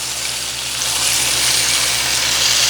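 Pork chops, glazed with raspberry chipotle, brown in a hot pan with a loud, steady sizzle that swells slightly after the first second and carries on alone without talk.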